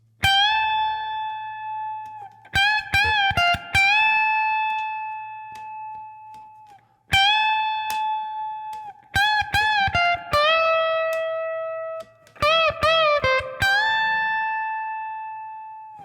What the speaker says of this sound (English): And that's it for guitar 1 solo, which sounds like this.